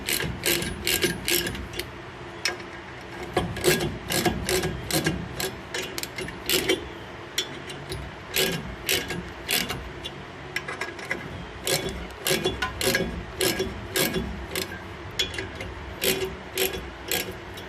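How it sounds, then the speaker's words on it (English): A bolt being screwed in against the rear brake backing plate of a 2005 GMC truck, a steady series of close metallic ratcheting clicks and clanks in a regular rhythm, with no talk. "We'll keep on screwing this in and hitting against the back of that plate."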